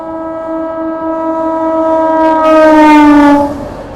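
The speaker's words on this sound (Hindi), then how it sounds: "भाई सामने बढ़िया रफ्तार में आती हुई अपनी आनंद विहार पुरी पुरुषोत्तम एक्सप्रेस, भाई क्या मस्त रफ्तार में आ रही है।" The Purushottam Express from Anand Vihar to Puri rushes past at speed, sounding a long, loud horn blast that swells to a peak and then fades as the train goes by.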